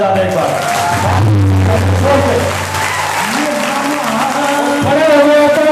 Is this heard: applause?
yes